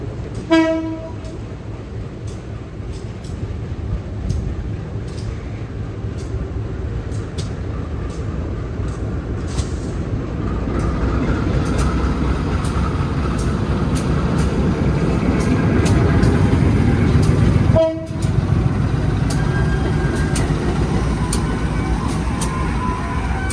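Two Indonesian diesel locomotives, a CC 203 and a CC 206, shunt at the Balai Yasa Yogyakarta works, their engines droning loudly and building in the middle, with a brief horn toot near the start.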